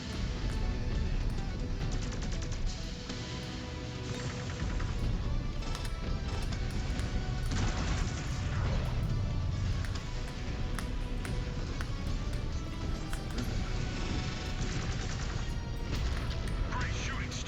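Continuous mech weapon fire and explosions in MechWarrior 5: Clans, a dense barrage of rapid impacts and booms layered under game music and radio voices.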